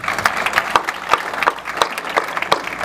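Crowd applauding at an anti-abortion protest during a debate on penal code reform in Cuiabá, a dense patter of clapping with sharp rhythmic accents roughly every third of a second, moderately loud and steady.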